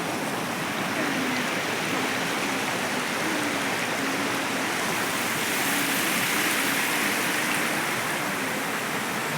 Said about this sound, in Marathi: बघा किती पाऊस आहे